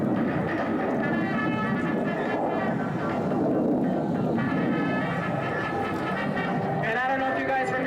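A MiG-17 jet fighter roars steadily overhead at an air show, loud and continuous, its engine tone shifting slightly near the end as it passes.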